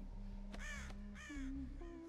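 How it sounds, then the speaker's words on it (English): Three harsh crow caws in quick succession, close and clear, set in the video game Dead by Daylight, with a steady low game ambience underneath. "Go away, bird."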